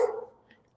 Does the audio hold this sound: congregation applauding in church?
no